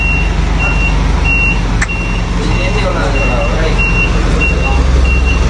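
A truck delivering roses pulls in with its reversing alarm beeping in a steady repeating pattern over a loud, rumbling diesel engine, close by, with people speaking now and then.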